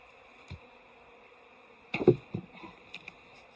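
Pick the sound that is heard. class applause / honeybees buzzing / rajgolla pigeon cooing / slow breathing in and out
honeybees buzzing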